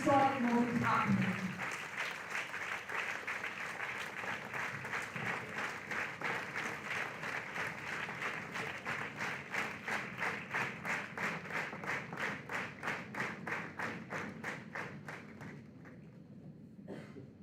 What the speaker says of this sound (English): let's clap and congratulate as we witness this historic moment happening